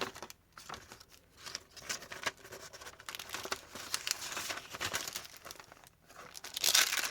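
Bags holding extra paper crinkle and rustle in soft, irregular bursts close by, faint and quiet, with a sharper crackle near the end.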